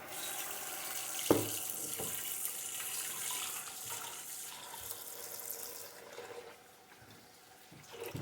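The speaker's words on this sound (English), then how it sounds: "I just put a little bit of water." A kitchen tap runs steadily into a sink as water is added to a pot of beef bones, a continuous bright hiss with a couple of clanks early on.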